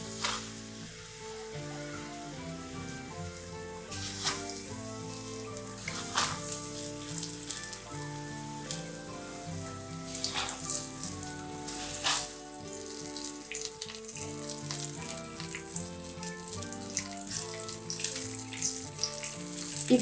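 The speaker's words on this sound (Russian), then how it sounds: "Маслечко нагрелось. Отправляем наши сырнички," Syrniki (cottage cheese pancakes) placed into hot oil in a pan give a steady sizzle and crackle throughout, with occasional sharper pops and soft clinks, fairly close and unbroken by talk.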